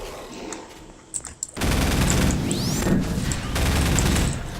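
Rapid bursts of gunfire from a first-person shooter game, Half-Life 2, erupt after a short lull and continue as dense, loud volleys with occasional sharp cracks.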